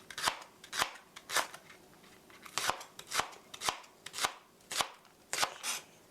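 A knife slices green onion finely on a cutting board, giving about a dozen crisp, close chops in an uneven rhythm with quiet gaps between strokes.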